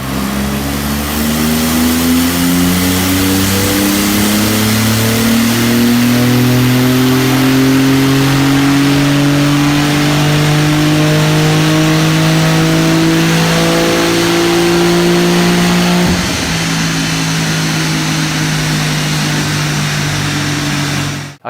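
A 2021 Porsche 911 Turbo (992) on its original exhaust revs up loudly and steadily, its engine tone rising over many seconds before dropping off sharply, close and unbroken with no speech.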